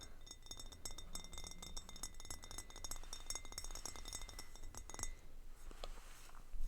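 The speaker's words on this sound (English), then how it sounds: "I love how this glass sounds." A glass jar with a metal lid clinks and rattles in a dense run of close, bright taps for about five seconds, then goes quieter with a few scattered knocks near the end.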